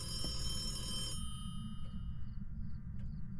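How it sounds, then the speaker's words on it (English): A phone rings inside a dark house in the Phasmophobia ghost-hunting game, a bright, repeating ring sitting over a steady low rumble with no talk. "Is there a phone in here?"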